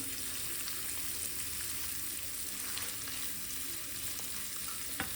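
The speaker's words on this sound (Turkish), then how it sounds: "Etlerimi böyle birazcık kavuracağım." Meat sautéing in a pan for tantuni gives a continuous, even sizzle with a faint crackle, holding steady throughout with one small click near the end.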